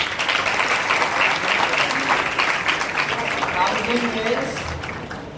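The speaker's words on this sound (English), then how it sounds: "Give him a big applause." Audience at a commerce accountancy workshop breaks into sustained, fairly loud applause with crowd murmur mixed in, dense clapping holding steady before easing slightly at the end.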